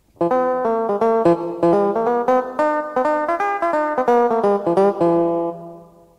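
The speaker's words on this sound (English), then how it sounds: "Or you can change an acoustic guitar to an electric guitar, and it'll sound like this." An electric guitar voice on a Wersi Arcus CD45 keyboard plays a bright, sustained melodic line of quick repeated notes and chords, ending in a ringing final note that fades out.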